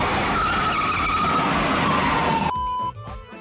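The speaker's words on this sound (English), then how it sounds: "A collision that happened during the car chase was not planned" A car in the chase from The French Connection skids, producing a long, loud tyre screech with engine roar. It cuts off abruptly near the end, leaving a faint tail, and no one talks.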